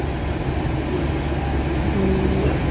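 A double-decker bus passes on a road behind a train station, a steady loud engine drone and road rumble that holds evenly throughout.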